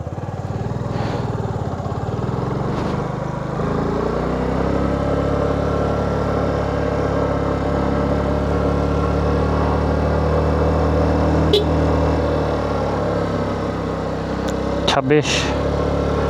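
A smoking vehicle engine runs loudly and steadily on a long uphill road in Bangladesh, a constant close rumble with a couple of brief clicks near the end.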